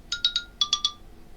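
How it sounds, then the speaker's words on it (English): A phone notification chimes in two quick bursts of three bright electronic beeps, close and clear in a quiet room. "phone notification, shut up"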